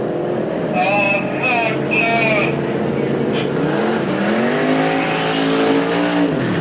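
Enduro race car engines roar loudly and continuously at Perris Auto Speedway, their pitch climbing and falling as they rev and accelerate nearby.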